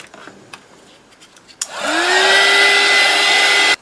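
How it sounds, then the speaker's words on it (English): A heat gun switches on after a click and blows a loud, steady whining roar while drying paint on a mixed media paper bag cover, then cuts off abruptly. "I'm just going to put on my heat gun and dry that first colour off"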